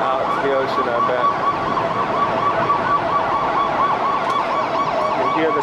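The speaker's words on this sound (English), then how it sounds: "You hear the sirens." Emergency sirens wail continuously in the distance during the September 11 attacks, their rising and falling tones overlapping steadily with no pause.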